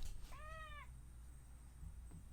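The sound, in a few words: cat meowing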